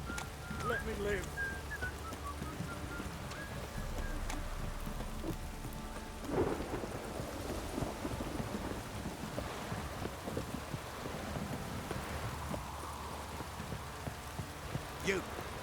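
Steady rainfall and rolling thunder in The Witcher 3 video game, a continuous downpour with distant rumbles underneath, heard alone without talk.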